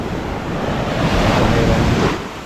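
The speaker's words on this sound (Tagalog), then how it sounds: "Malapit na basagan ng alon." Ocean waves break close by against rocks on the coast at Busuanga, giving a loud, continuous surf roar that swells toward the middle and eases off at the end, with some wind noise on the microphone.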